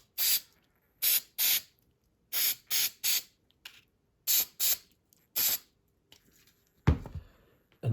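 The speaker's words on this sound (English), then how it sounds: "a quick spray" A spray can hisses onto a scale model tree in repeated short bursts, about ten quick puffs with pauses between, close and crisp in a quiet room, followed by a handling clatter.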